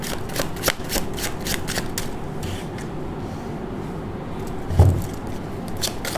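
Tarot cards are shuffled and drawn from a deck, with a near run of quick papery flicks and riffles, a few sharper snaps, and a soft thump partway through.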